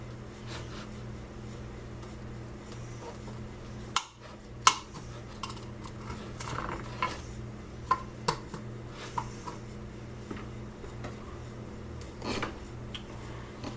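A knife works through a pan of baked brownies, scraping and clinking against the metal baking pan in scattered short strokes, close and fairly quiet over a steady low hum.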